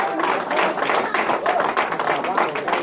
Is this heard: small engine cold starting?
no